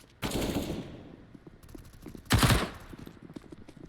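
Two loud bursts of gunfire from a competitive shooter game, one at the start and a sharper, heavier one a couple of seconds later, with quieter game sounds between them.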